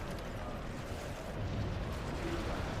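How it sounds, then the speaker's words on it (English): Explosions rumble through a destroyed city in Crackdown 3 gameplay, a continuous low roar of blasts and falling debris, fairly steady and dense with no distinct single bang standing out. "There's another explosion."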